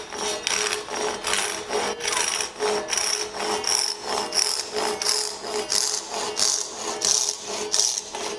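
Hand saw making an aggressive rip cut in wood while shaping a banjo nut: steady rhythmic rasping strokes, roughly two per second, close and moderately loud with no talk.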